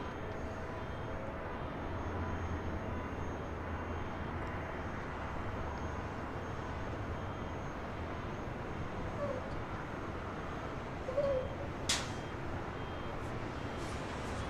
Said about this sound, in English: This is Southwest Airlines 1887 taking off to Kansas City on a MAX 8.